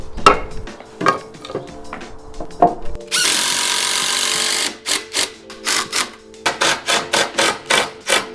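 A power drill fitted with a titanium bit bores holes in angle iron for a skate bench build, with a long steady whine of drilling followed by a rapid series of short, loud bursts as the bit bites in and releases.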